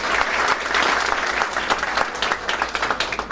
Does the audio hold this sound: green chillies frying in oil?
no